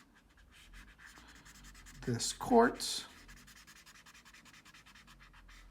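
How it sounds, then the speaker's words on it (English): A green marker colors on paper with quick, rhythmic scratchy strokes, close and quiet. A voice speaks briefly partway through. "I'm going to grab my green marker"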